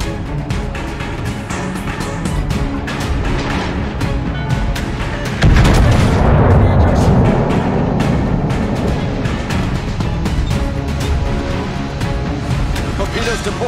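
Naval gunfire from the battleship Republique in a warship combat video game: a dense barrage of repeated booming shots over a constant battle rumble, with a heavier, louder blast partway through and firing continuing afterward.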